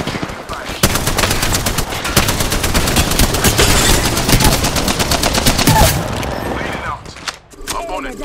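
Loud, dense automatic gunfire from the Apex Legends video game rattles in rapid bursts for several seconds with game voice callouts over it, then cuts off abruptly.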